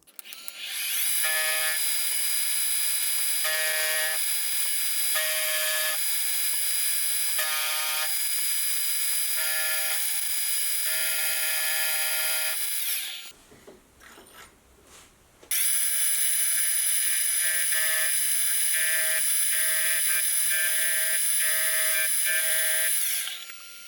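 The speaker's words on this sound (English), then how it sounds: "I can now clean it up in the mill using a carbide end mill" A milling machine cuts hardened steel with a carbide end mill, giving a loud, high-pitched whining tone with pulsing harmonics. The cut runs steadily, breaks off for a couple of seconds, then resumes just as strongly.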